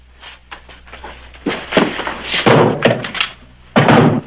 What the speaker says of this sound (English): All right, get the trap door.